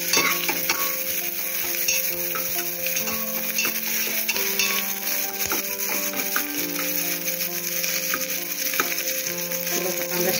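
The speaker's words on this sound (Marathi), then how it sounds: "कांदा फोडणीत चांगला लाल झालाय" Onion fries in hot oil for the tempering of a spicy goat mutton curry, a steady loud sizzle with repeated spoon-scraping stirs against the pan, close and continuous without talk.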